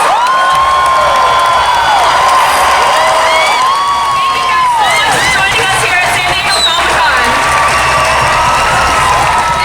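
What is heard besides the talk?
applause and cheering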